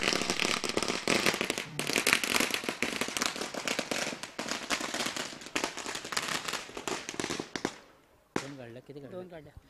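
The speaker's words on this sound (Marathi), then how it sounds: "प्रमुख पाहुण्यांचं फटाक्यांच्या आतषबाजीमध्ये सहस्त्र स्वागत." Firecrackers burst in a dense, loud crackling barrage to welcome chief guests at a village cricket match, rattling on for about eight seconds before stopping abruptly, after which a voice comes in.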